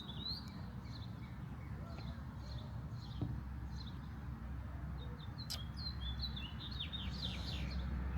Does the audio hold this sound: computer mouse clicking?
no